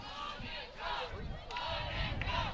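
A crowd at a Premier Ultimate League women's ultimate frisbee game between Columbus Pride and Indianapolis Red cheers in swelling waves of shouts and applause, with faint commentary underneath.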